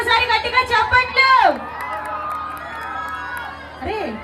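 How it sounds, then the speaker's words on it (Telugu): A crowd cheers and shouts at a mass stage dance performance by Sri Sai Events from Nellore. A loud amplified voice talks over the noise, then the cheering drops to a lower murmur. "పవర్ స్టార్ అభిమానులు ఒక్కసారి గట్టిగా చప్పట్లు"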